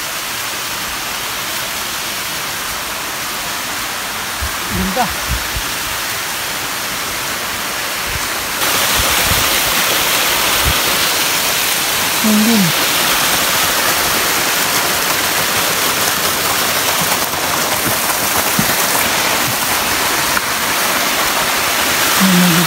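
Strong mountain stream on Mt. Maya near Kobe, Japan, rushing in a dense, constant roar close by, growing louder partway through, while a hiker says a few words over the water.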